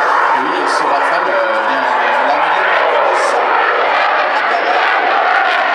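A Dassault Rafale jet flies at the 2016 La Ferté-Alais air show, its dense, steady roar filling the whole stretch while an announcer's voice talks over it.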